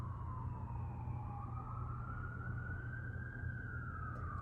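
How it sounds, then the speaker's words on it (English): An emergency siren wails outside, one long slowly rising and falling tone that holds steady over a low rumble of traffic, with no talking. "Sorry about that siren."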